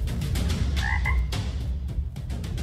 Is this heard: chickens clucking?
no